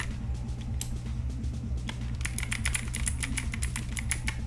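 Typing on a computer keyboard that the user says is not working, with a steady run of quick clicking keystrokes that grows denser toward the end, heard close over a constant low background hum.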